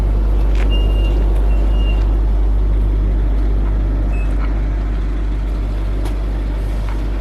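A truck arrives for loading at a farm workshop where a single-row MOROZ seeder is being readied for shipment. A steady, loud low engine rumble runs throughout, with faint brief beeps and light clanks over it.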